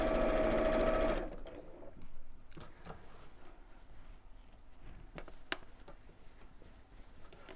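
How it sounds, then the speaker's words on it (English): A sewing machine runs a straight seam on a drawstring PJ bag, a loud continuous whirring burst that stops after about a second, followed by quiet light ticks and taps of handling fabric and machine parts. "So a lot of straight line sewing."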